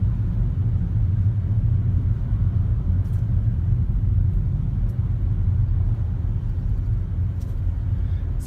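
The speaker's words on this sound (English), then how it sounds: "It's a little bit of traffic." Steady low rumble of road traffic heard from inside a car on the drive from Barrio Barretto to Subic City in the Philippines, a continuous engine and road drone with a few faint higher clicks.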